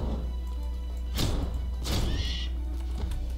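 A flaming horse neighs in the video game Magicka, a couple of sharp whinnying bursts with a thud, over a steady low game background hum.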